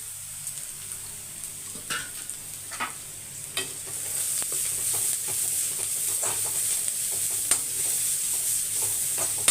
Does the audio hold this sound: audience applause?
no